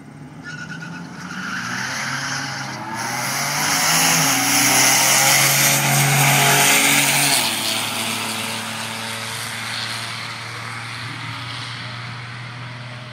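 A BMW M3 and a Buick Grand National race side by side down a drag strip, engines rising to a loud roaring peak as they pass, then fading into the distance.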